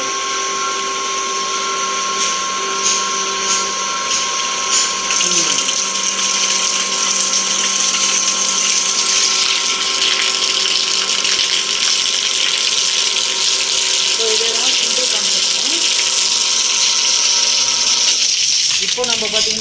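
A jet pump motor is switched on and runs with a steady, loud mechanical whine and rushing hum, holding constant for the whole stretch while someone talks over it.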